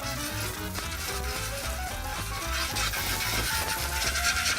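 Banana liqueur hits melted butter and sugar in a hot pan over a FireDisc cooker, producing a loud, steady crackling sizzle that holds throughout with no pauses.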